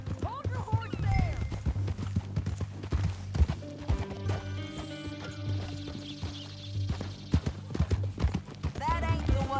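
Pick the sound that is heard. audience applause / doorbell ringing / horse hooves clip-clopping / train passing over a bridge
horse hooves clip-clopping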